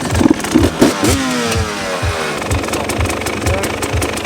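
A motorcycle engine sputters with a few sharp bursts, then catches and revs up into a rising whine, settling into a choppy idle; loud and close.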